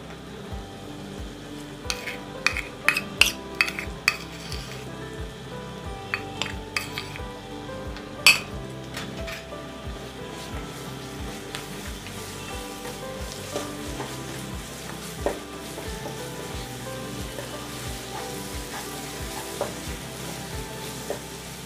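Mustard paste fries with onion and ginger paste in a pan for a boal fish curry, a low steady sizzle under a rhythmic series of sharp spatula taps and scrapes, busier early and easing later.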